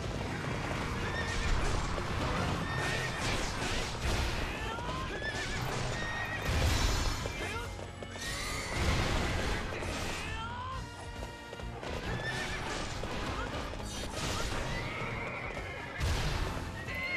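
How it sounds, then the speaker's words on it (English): Horse neighing and whinnying with clip-clop hooves and a sharp smashing kick in the Hyrule Warriors video game, loud and continuous over busy game music and effects. "Yeah, you just got kicked by a horse and died."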